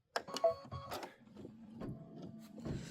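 Embroidery sewing machine running an under-sewing base layer, a quick rhythmic mechanical clatter of needle strokes, close and steady after a few sharp knocks at the start, with no talking.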